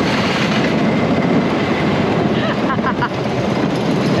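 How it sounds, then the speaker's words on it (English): An Alton Towers roller coaster train roars loudly overhead in a sustained rumbling rush with rattling track noise, heard up close and building to a steady wash that fills the whole stretch. "another train going literally right over our heads"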